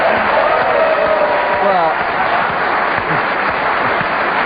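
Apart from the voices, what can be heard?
studio audience applause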